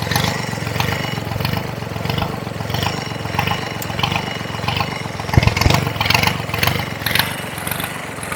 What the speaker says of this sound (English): we idled her up a little bit.